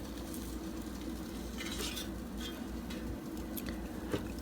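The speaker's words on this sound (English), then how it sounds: "So I'm going to go ahead and flip them over." Pork chops handled and flipped in an air fryer basket, giving steady sizzling with soft scraping and stirring noises that stay at an even level throughout, with no talk.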